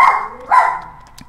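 A 19-year-old dog gives two short, sharp barks about half a second apart, loud and close, with no one talking.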